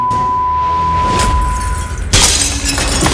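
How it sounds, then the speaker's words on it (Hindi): Glass shatters loudly in a sudden burst, with bright crashing fragments following a sustained tone, and no voices heard. "और इसीलिए कांच टूट"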